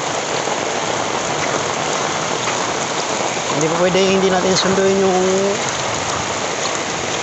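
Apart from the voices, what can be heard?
heavy rain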